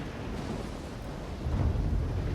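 A thunderstorm rumbles in the video game Risen, a low, rolling growl that swells louder toward the end, heavy and continuous with a faint wash of rain-like noise and no voices.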